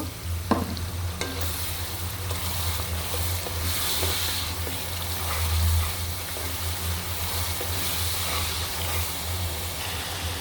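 Water splashes into a hot pan of snakehead fish curry with potatoes, setting off a steady, close sizzle and frying hiss that continues as the mixture is stirred.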